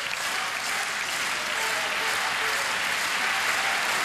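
A table tennis crowd at a China versus Germany world championship match applauds loudly and continuously, a dense wash of clapping with cheers mixed in and a commentator's voice faintly underneath.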